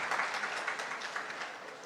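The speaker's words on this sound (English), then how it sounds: "please give a big round of applause to Mr. Luis, Mr. Lim Sian, and of course" Audience at a city development launch event applauding guests called to the stage, a steady wash of many hands clapping throughout.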